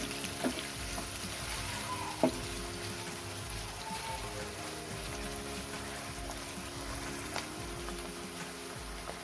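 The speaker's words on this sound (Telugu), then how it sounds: "ఇప్పుడు ఈ పచ్చిమిర్చిని కూడా వేసుకుందాం. ఇది కొంచెం బ్రౌన్ కలర్ వచ్చే వరకు మనం ఫ్రై చేసుకుందాం." Green chillies fry in a pan, a soft, continuous crackling sizzle with occasional sharper pops and light stirring clicks, fairly quiet and close.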